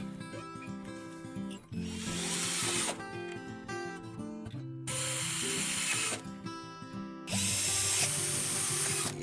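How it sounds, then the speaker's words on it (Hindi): A power drill bores a hole in a DIY workpiece, several loud whining bursts of the motor separated by short pauses, heard up close without speech. "ये होल ड्रिल हो गया।"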